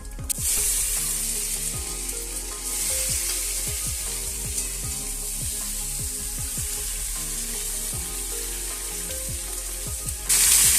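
Mixed vegetables for a Chhath festival dish frying in a pan with spices, a loud steady sizzle close up, with a spatula scraping and tapping at a regular rhythm throughout and a brief hiss of water toward the end.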